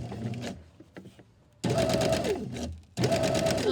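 A sewing machine stitches ruffles, two bursts of close, loud rapid mechanical whirring with a shifting motor tone, following a quieter stretch of faint handling sounds.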